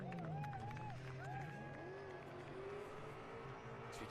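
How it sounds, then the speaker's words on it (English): A drift car does a prolonged burnout at a British Drift Championship round at Driftland Scotland, its engine droning and rising in pitch over tyre roar, heard at a distance beneath crowd noise and a commentator's voice. "So we can hear Ian doing a phenomenal burnout."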